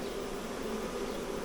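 Honey bee swarm buzzing steadily and densely around a nuc box during a swarm capture, a continuous close hum with no pauses and no voices.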